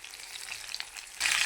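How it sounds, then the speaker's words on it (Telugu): Tomatoes frying in a pan give a soft, steady sizzle that swells louder near the end, with no voices present. "అప్పటి వరకు అయితే మంచిగా వేయించుకోవాలి టమాటాలని"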